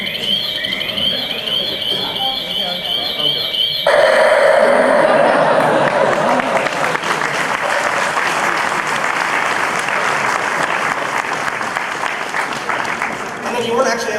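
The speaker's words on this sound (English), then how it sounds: "you weren't actually able to hear it at the end because of all the applause" Star Wars Celebration panel audience applauding, dense, loud clapping and cheering that swells abruptly after a few seconds of music and keeps going steadily before tapering near the end.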